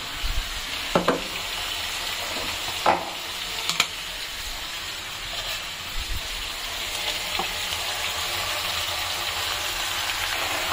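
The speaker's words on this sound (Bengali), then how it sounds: "আদা রসুনটা দিয়ে আমি ভালো করে এটাকে মশলাটা আবার ভেজে নেবো।" Ginger garlic paste fries with tomatoes and spices in a pan, a steady soft sizzle with occasional stirring clinks and scrapes, no voice.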